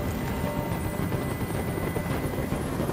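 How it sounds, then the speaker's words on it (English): A continuous helicopter rotor drone in the game Detroit: Become Human, steady and noisy, with a constant chopping rumble and no voices. "I can't stand that noise anymore! Tell that helicopter to get out of here!"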